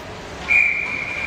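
A referee's whistle at a youth peewee ice hockey game cuts through the arena murmur, one sharp blast that trails off into a thinner sustained tone.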